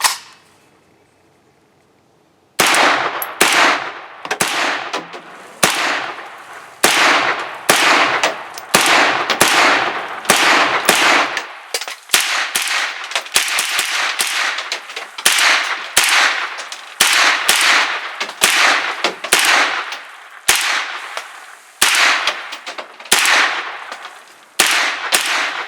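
A Kalashnikov-USA KR9 fires at an outdoor range in a long series of sharp, loud reports, starting after a brief quiet gap and continuing at a slow, steady, somewhat irregular pace with echoing tails.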